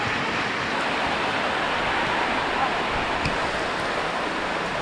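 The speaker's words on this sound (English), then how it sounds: "It is pouring down." Heavy rain pours down steadily at a wildlife rescue center in Laos, a dense, even hiss with no letup, loud and close, with a few faint knocks under the wash of water.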